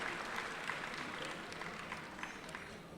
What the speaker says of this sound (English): Let's give her another round of applause, St. Louis's best MC.